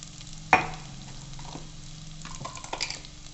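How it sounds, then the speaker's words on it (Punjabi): Garlic and a little cumin frying in a pan for aloo chaat: a sharp sizzle burst as they go in, then a soft, steady frying hiss with faint stirring. "ਪਹਿਲਾਂ ਭੁੰਨਾਂਗੇ ਜੀ ਆਪਾਂ ਲਸਣ ਇੱਕ ਪਾਵਾਂਗੇ ਜੀ ਥੋੜਾ ਜਿਹਾ ਜੀਰਾ"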